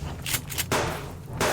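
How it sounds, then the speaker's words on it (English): Pistol and shotgun fire in the survival video game Subsistence: several sharp, loud bursts in quick succession, close up, with brief gaps between them. "A whole thing of mags, a whole pistol mag, and a shotgun blast."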